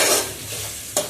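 Ground ginger-garlic spice paste with coconut frying in a pan, a close, loud hiss of sizzling with a sharp stir or scrape near the end, no voices.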